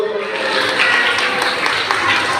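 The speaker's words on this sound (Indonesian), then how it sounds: "Ayo tepuk tangan buat Tuhan." A church congregation at a Christmas sermon breaks into lively applause, a dense, even wash of clapping filling the room for a couple of seconds, with a voice faintly audible beneath it.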